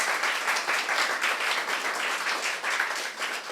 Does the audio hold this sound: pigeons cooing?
no